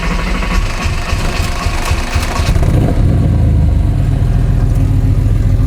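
An air-cooled Porsche 911 engine runs close by, a steady low rumble that thickens and grows louder after a few seconds, holding a dense, even idle-to-rev drone with no talking.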